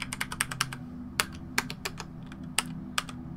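A computer keyboard is pressed while playing the shooter game Receiver: quick bursts of crisp key clicks, then single taps spaced apart over a soft steady hum, with no talking.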